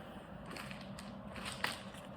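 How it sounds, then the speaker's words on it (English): Faint, close crinkling as a rolled plastic bag holding beach glass is handled, with soft rustles and one sharper crackle partway through against a quiet room. "a plastic bag, a rolled bag like this with the info"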